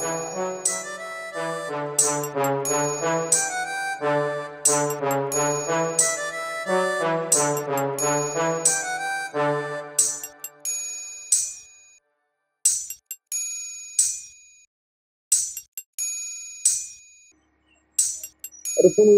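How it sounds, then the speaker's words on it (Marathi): A phone ringtone rings out as a call is placed, a repeating melodic jingle with sustained tones for about ten seconds, then sparser bright chiming notes with pauses between them. "बरं फोन लावतो थांब."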